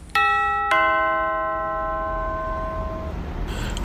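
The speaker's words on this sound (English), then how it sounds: "Right, pressing the doorbell now." A two-tone doorbell chime rings once, ding then dong, the second note lingering and fading in a quiet room.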